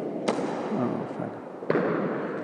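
Two sharp cricket bat strikes on a ball at batting practice in the nets, about a second and a half apart, the second slightly louder, over steady outdoor background noise.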